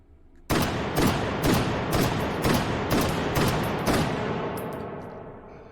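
Semi-automatic shotgun fired in the VR game H3VR, eight loud sharp blasts in quick succession about half a second apart, each with a short ringing tail, then fading quiet.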